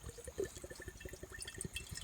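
Coconut water is poured from a fresh coconut, a quiet, continuous trickle and splash of liquid heard alone, close by.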